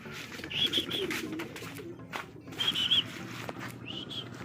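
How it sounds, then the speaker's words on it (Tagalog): Faint bird calls come from a racing pigeon arriving during a derby fun race, heard as three short whistling coos at a distance over steady outdoor background noise. "Ito na, meron na tayong ibon mga kalapatids."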